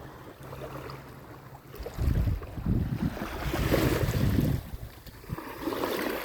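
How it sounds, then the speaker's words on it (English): Ocean waves rolling onto a beach during a morning walk, a low rumbling surge that swells midway and lingers, with wind buffeting the microphone; no voices. "Like these waves, they come in,"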